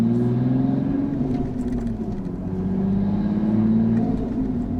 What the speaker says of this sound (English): The noise, the turbo and the flutter and the crackles.